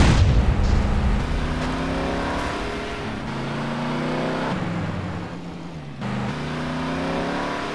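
Car engine in GTA San Andreas, a modded 1975 Bollokan Chul, revving and accelerating with rising harmonic whine, loud and steady throughout with shifting pitch as it speeds up.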